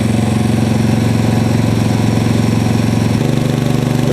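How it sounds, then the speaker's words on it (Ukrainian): A KEMAGE KM5000io inverter generator runs steadily in eco mode, a loud close engine drone whose pitch drops noticeably as the engine slows near the end. "Генератор знову перейшов у нас в економ режим."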